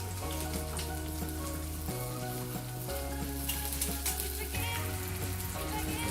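Food browns in a hot pan with a steady, close sizzle that holds evenly throughout, with no talking over it.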